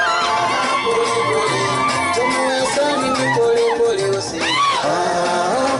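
Wedding crowd cheering for a catechist's marriage, with whoops and shouts rising over lively chatter and a loud, busy background, with voices calling out.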